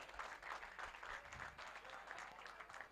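Applause for a match commentator at a cricket premier league prize distribution ceremony, a steady, fairly faint wash of crowd clapping heard from a distance for a few seconds.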